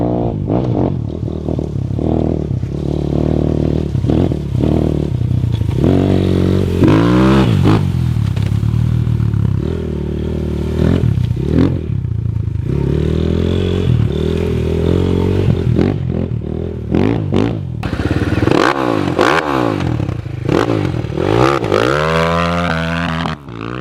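Close and loud, a Moto Pro RF250 farm dirt bike cruises along with a steady buzzing engine note, punctuated by repeated throttle blips and gear-shift pitch swoops throughout.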